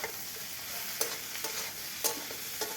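Bengali pointed gourd and mourala fish with salt, turmeric and chili powder sizzle steadily in a pan, while a spatula scrapes and stirs in several distinct strokes.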